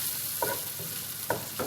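Oil sizzles quietly in a pan, with a few soft scraping stirs as the spoon moves through it, while preparing Ramadan majboos meat. No one speaks.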